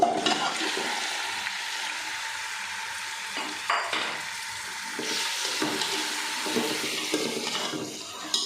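Goat meat goes into a pan with sautéed ginger and garlic for Peshawari namkeen gosht, sizzling and frying steadily throughout as it is stirred, with occasional scraping and clinking.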